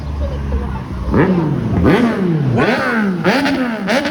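A loud motorcycle engine revving repeatedly nearby, pitch rising and falling with each throttle blip, a steady rumble underneath throughout.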